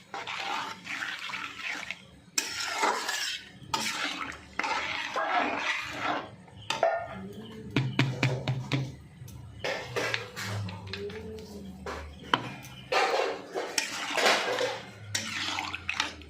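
Ground mustard spice is stirred into a raw mango and garlic pickle, giving intermittent scraping and clattering bursts of mixing, fairly close, with short pauses between strokes.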